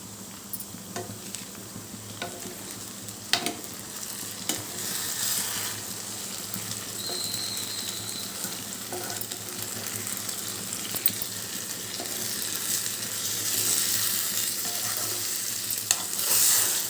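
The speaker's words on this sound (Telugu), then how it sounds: "ఇప్పుడు ఒక్కసారి దీన్ని కలుపుకుందాం" Mutton blood curry frying on a medium flame is stirred in the pan, a steady low sizzle with scattered scraping knocks of the spoon, fairly close and with no voices over it.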